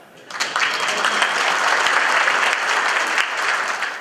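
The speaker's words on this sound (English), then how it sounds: "Please go ahead and clap." At an awards ceremony, an audience breaks into clapping that swells quickly from near silence into a sustained, loud, crowded ovation.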